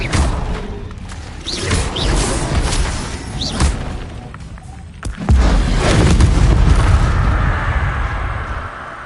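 Spell blasts and whooshing magical impacts from the wizarding video game Hogwarts Legacy as a disarming spell is cast, with several sharp booms and a heavy rumbling burst midway, loud and close.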